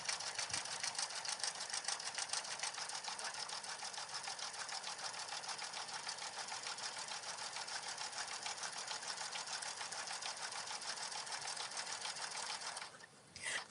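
A sewing machine stitches the sides and bottom of a card case in one long, unbroken run, its fast, even needle chatter close and steady, stopping briefly near the end before restarting.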